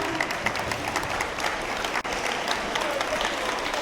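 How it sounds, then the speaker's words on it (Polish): Thunderous applause from an audience at a preschoolers' performance, a dense, steady wash of clapping with one brief dip near the middle. "Proszę o gromkie brawa."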